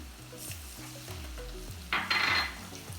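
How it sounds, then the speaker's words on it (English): Onions caramelize in butter in a pan, giving a close, gentle sizzle with soft stirring scrapes and a brighter burst of hissing near the end. "As you can see, they are caramelizing in this nice butter."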